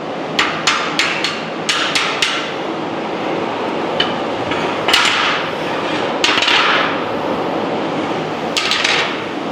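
Hammer blows on hot-formed metal being straightened flat, with a quick cluster of sharp, loud strikes at the start followed by sparser, heavier hits over workshop background noise.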